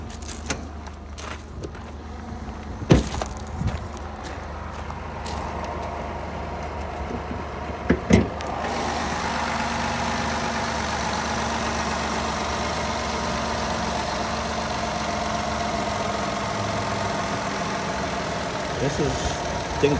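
A 2013 Ford Escape XLT idles steadily with its hood open, a continuous mid-pitched engine hum that holds on after a few clicks and clunks early on, with someone talking nearby.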